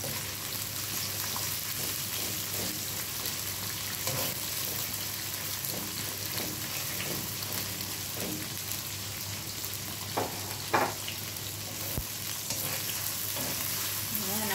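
Ginger sautéed with chicken in a hot pan gives a continuous close sizzle and frying crackle, with occasional spatula scrapes and stirs throughout, no voices.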